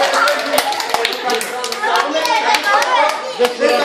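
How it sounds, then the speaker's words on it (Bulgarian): A group, with children among them, claps loudly for Zlati, a dense run of sharp claps lasting the whole stretch with voices and chatter mixed in. "аплодисменти, пляскаме силно за Злати"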